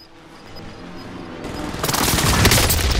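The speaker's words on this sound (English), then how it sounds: "Oh no, what a fucking airstrike." An enemy precision airstrike in the video game Call of Duty: Modern Warfare, building from a low rumble into a loud, dense burst of blasts and crackling impacts that swells over the final second and a half.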